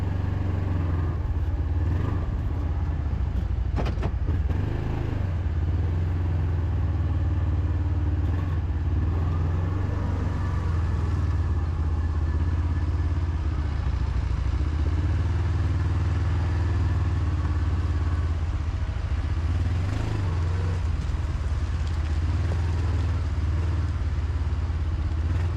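A tractor carrying a hose reel works in a farm field during dragline manure spreading, its engine a steady low droning hum with a few faint clatters, constant throughout.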